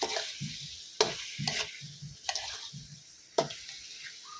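Fried snakehead fish gets stir-fried with roasted curry paste, a utensil scraping and clacking against the pan in irregular strokes over a soft, low sizzle.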